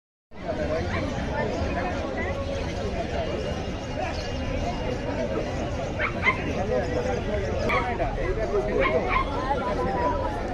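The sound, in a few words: dogs barking at a dog market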